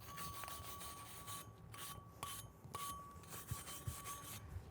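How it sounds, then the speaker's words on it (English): A wire brush scrubs slag off a 6010/7018 pipe weld in the 6G test position, giving a series of short raspy strokes, close and fairly quiet, with faint metallic clinks. "We'll go ahead and brush that off before we do our restart."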